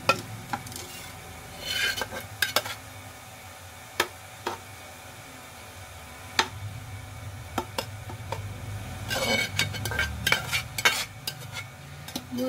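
Leftover lentils are added to a pan and stirred, giving intermittent scraping, clinking and soft sizzling at close range with no talk, plus a few sharper knocks of spoon against pan.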